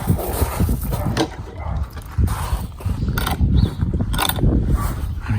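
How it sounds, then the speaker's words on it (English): Metal clanks and rattling of a gate being moved and shut outdoors, with scraping mechanical clunks over a steady background. "Excuse me whilst I close this gate"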